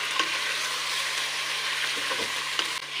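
Potato and eggplant pieces frying in a pan make a dense, continuous sizzling hiss, loud and close, with faint stirring touches throughout and no talking.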